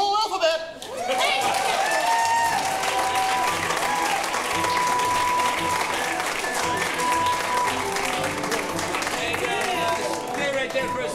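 Audience applause at a live comedy showdown show, loud sustained clapping and cheering from a crowd that swells and holds steady throughout.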